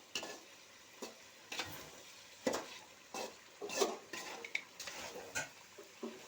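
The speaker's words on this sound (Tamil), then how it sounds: "நல்லா வந்து கிளறி விட்டுக்கலாம்" Chicken masala being stirred in a cooking pot, with a ladle scraping and clinking against the metal in a loose, uneven rhythm over a soft background sizzle.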